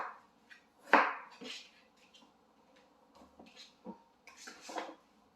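A knife cuts through a honeydew melon in sparse, close clicks and scrapes against a board or dish, with one sharper knock early on and quiet gaps between strokes.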